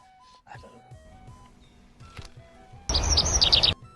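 A bird chirps in an outdoor rural setting, a burst of sharp, high tweets near the end following a few faint scattered calls and background noise.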